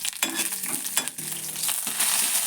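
Tempering of curry leaves, urad dal, mustard and cumin seeds crackling and frying in a pan, close and sizzling with stirring scrapes at irregular intervals.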